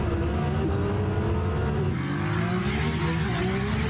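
Two 1600-horsepower drag cars, an Audi R8 and a Nissan GT-R, race side by side, their engines a loud continuous roar with shifting pitch that holds steady from start to finish.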